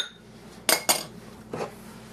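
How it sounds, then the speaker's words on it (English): A utensil stirring baking powder into dry cake ingredients in a bowl, heard as three quick clinks against the bowl: two close together, then a softer one after a pause, over quiet background. "Now we stir this together to mix it."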